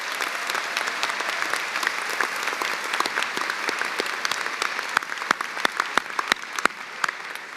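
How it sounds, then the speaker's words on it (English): An audience at a law school commencement ceremony breaks into sustained applause, a dense crowd patter that grows sharper toward the end as a few nearby clappers land loud, distinct claps. "So let's give those folks a round of applause."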